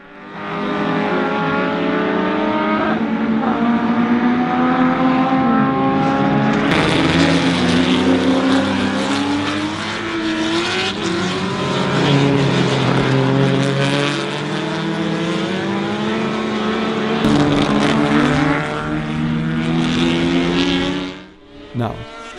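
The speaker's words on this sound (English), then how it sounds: "the qualification session for the Jerry Marshall Trophy commenced with an eclectic mix of Group 1 cars from the 1970s and early 80s" Group 1 saloon race cars from the 1970s and early 80s, such as Ford Capris and Rover 3500s, roar through qualifying at Goodwood's members' meeting, several engines layered loud and continuous with rising and falling revs as they pass.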